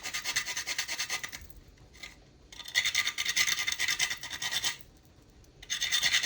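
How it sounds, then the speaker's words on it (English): Nutmeg scraped on a small mini grater during cake baking makes fast, close, raspy strokes in bursts, with short pauses between runs. "Grating the nutmeg."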